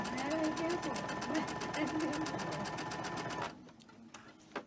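A sewing machine stitching steadily with a fast rhythmic whir, while a person talks over it, then the machine stops near the end.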